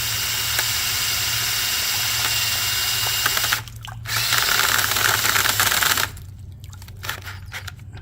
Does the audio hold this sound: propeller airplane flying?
no